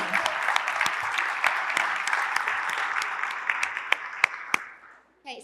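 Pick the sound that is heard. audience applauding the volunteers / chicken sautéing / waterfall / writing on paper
audience applauding the volunteers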